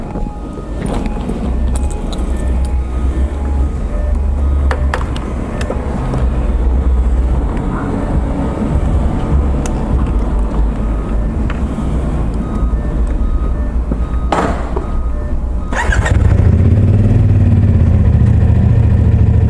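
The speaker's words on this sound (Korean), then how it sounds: "지금은 시동이 되게 잘 그러니까 RPM을 보면 일정하게 돌아가고 있는 건데" A 450SR motorcycle engine runs steadily while riding during deliveries in Gangnam, a continuous loud mid-pitched drone that swells louder near the end, with no talking.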